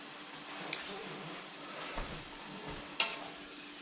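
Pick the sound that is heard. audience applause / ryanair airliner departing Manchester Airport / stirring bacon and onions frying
stirring bacon and onions frying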